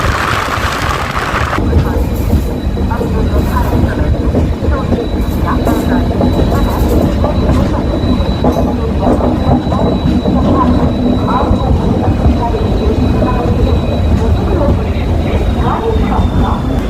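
The 12833 Howrah superfast express train passes a station with a loud, continuous rumble and clatter of wheels and carriages, and a thin, steady high squeal running through most of the pass.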